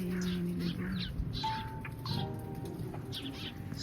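Birds call and chirp near a rice field, several overlapping birds giving short repeated calls and a few cooing notes over steady outdoor background noise, fairly close and moderately loud.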